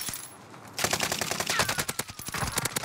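Rapid automatic gunfire in the video game Warzone, a short quiet lead-in followed by dense bursts of loud repeated shots with no talk.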